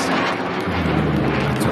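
A steady, broad roar like a jet airplane passing overhead, loud and continuous with a low rumble throughout.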